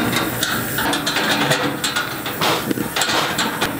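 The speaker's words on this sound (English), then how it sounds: "we're gonna turn this key counterclockwise to allow fuel onto this side." The fuel key on a Coleman Powerhouse dual fuel 414 white gas stove is turned, making a series of close mechanical clicks and ratcheting scrapes against a steady background hiss.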